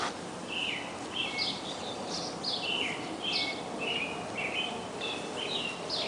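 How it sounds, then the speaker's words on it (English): Several birds chirp and sing outdoors in a steady series of short, high calls over a soft background hiss, with no talking. "You hear the birds?"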